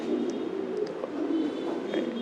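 Grizzle racing pigeons cooing in a loft, a continuous low throaty coo repeating close by with faint chirps above.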